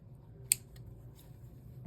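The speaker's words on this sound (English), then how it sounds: "And then just cut off that end." A single quick snip of scissors cutting off a thread end while sewing a bound buttonhole, a faint crisp click in a quiet room, followed by a softer handling sound.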